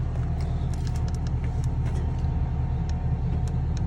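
A Gyro Trac 400 HDM mulcher head on a 316E carrier runs at full throttle, a loud, steady heavy engine and drum roar with deep rumble and scattered sharp metallic ticks and clatter.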